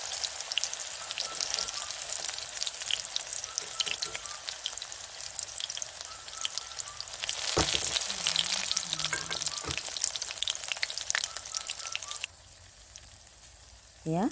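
Masoor dal fritters made with pumpkin leaves frying in hot oil in a wok on a low flame, giving a steady rain-like sizzle with a brief louder burst of crackling midway before the sound thins toward the end.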